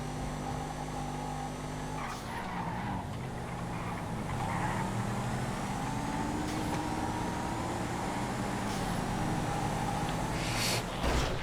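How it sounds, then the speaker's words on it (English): Traffic in the GTA FiveM game heard from inside a Massacro sports car, its engine droning and rising in pitch as it accelerates past other vehicles, loud and steady with no talk. "A lot of traffic."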